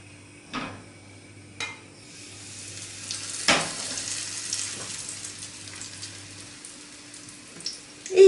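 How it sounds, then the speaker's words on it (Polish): Steady sizzle of batter-coated pineapple frying in fat, with a few sharp clinks and taps of utensils, fairly close, no talking. "I smażymy z jednej i z drugiej strony."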